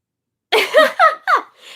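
A few harsh bursts close by, three or four rough expulsions in quick succession followed by a short breathy trail, with no talking.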